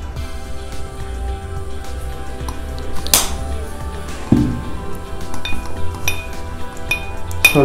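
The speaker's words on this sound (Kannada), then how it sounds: "ಸ್ವಲ್ಪ ಚೆನ್ನಾಗಿ ಸ್ಟರ್ ಮಾಡೋಣ" A spoon stirs a lime vodka cocktail sweetened with honey in a glass, giving light clinks and scrapes, including a sharper clink partway through, over steady background music.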